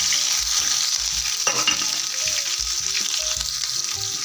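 Cumin, onions and green chillies sizzle steadily in hot oil while a spoon stirs and scrapes the pan in repeated strokes, close and continuous with no talking.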